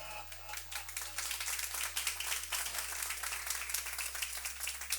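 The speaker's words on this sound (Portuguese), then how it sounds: "vamos receber, mas eu quero que seja com alegria, com aplausos." A congregation at a church Bible school lesson bursts into steady applause, a dense wash of bright claps at moderate distance with a constant low hum running underneath.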